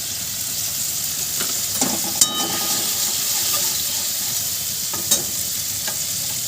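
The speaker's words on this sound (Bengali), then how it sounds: "আমি একটুখানি জল দিয়ে জলটা ফুটছে" Water bubbling and hissing in a hot pot, a steady seething sound with a couple of sharp metallic clinks from stirring.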